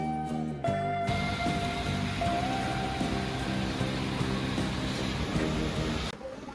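Heavy monsoon rain falling steadily in Maharashtra, a dense continuous wash that keeps up at an even level for several seconds and then cuts off abruptly near the end, with no voices.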